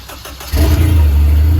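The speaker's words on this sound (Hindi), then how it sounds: "अब हमारी गाड़ी स्टार्ट होगी।" A car engine cranks briefly and then catches, settling into a loud, close, steady idle rumble with no voices.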